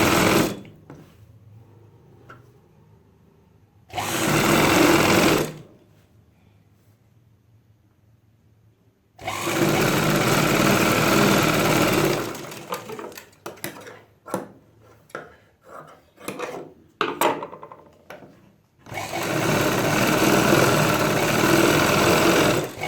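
Sewing machine running in bursts while stitching the seams of a Punjabi pajama or palazzo trouser: three long steady whirring runs with short stops and quick stuttering starts between them, close and loud, no talk.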